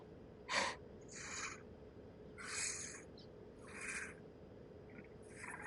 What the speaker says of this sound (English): Something breathing on my neck.